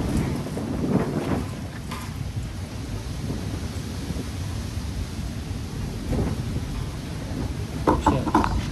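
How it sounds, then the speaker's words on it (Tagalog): Steady outdoor rain falls with gusty wind noise buffeting the microphone, a continuous broadband wash throughout, with faint distant voices now and then. "Okay, umuulan na."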